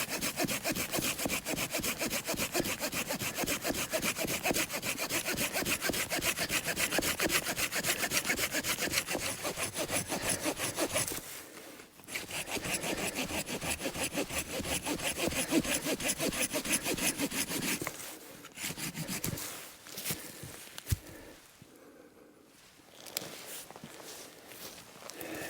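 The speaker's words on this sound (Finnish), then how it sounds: "Täytyy vähän siitä sahata." Hand saw cutting through a small fallen pine trunk in a snowy winter forest, close rhythmic back-and-forth strokes that run steadily, pause briefly, then resume before stopping.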